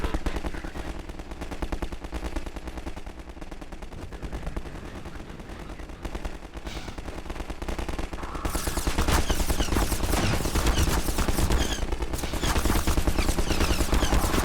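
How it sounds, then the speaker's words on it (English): Machine gun fire in Half-Life 2 rattles on continuously in rapid bursts, building louder partway through and staying dense and close to the end. "They're just straight up running a machine gun gauntlet here."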